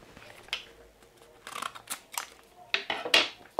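Scissors scrape and tap against an invisible Crystalusion screen protector in a scratch test, producing a series of quiet, irregular scratchy clicks and rasps at close range, with no voices.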